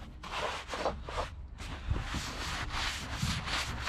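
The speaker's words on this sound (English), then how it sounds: "Sponge work now on the body panels, getting that smooth finish we're looking for." A sponge scrubs the dirty body panels of an abandoned car during its first wash, making steady, close rubbing strokes in a repeating rhythm with no talking.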